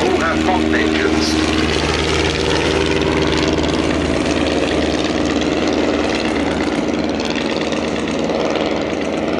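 WWI replica aircraft with modern engines fly at the Duxford summer airshow, a steady loud propeller-engine drone that holds throughout, with a voice talking over it.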